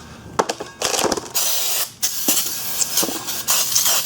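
Brake cleaner sprayed onto a Ford Escape rear brake rotor to remove packing grease: loud, close aerosol hissing in several bursts, mixed with clicks and light metallic handling sounds between sprays.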